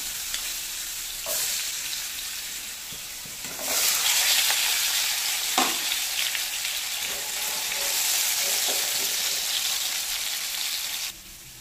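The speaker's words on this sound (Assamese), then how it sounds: "মই আলুখিনি অকমান হাফকে ফ্ৰাই কৰি লম" Potatoes half-frying in hot oil in a wok already used for frying fish, giving a steady, dense sizzle that swells louder partway through and carries on with faint stirring clatter until it cuts off abruptly near the end.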